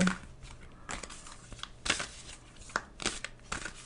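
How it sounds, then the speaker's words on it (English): Tarot cards are handled and shuffled close by. Several separate soft snaps and papery rustles are scattered irregularly across the few seconds, all faint, with quiet gaps in between. "yes, I am shuffling"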